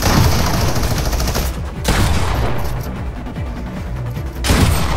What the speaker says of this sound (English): He has the minigun.